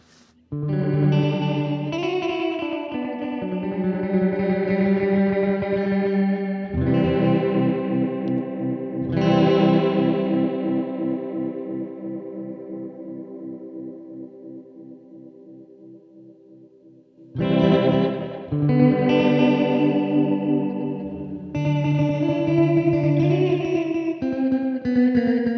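Sustained electric guitar chords through a Fender Hammertone Space Delay pedal, ringing out with echoing repeats and a processed, shimmering tone, fading between strums before new chords start loud again.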